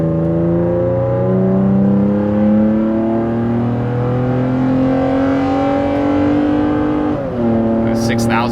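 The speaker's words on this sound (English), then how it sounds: "There's gonna be a lot of noise because the Tacoma motor revs out a bit" A Toyota Tacoma with an S&B cold air intake and Carven exhaust revs hard at full throttle, its loud, continuous engine note climbing steadily in pitch, then dropping sharply near the end as it shifts and pulls again.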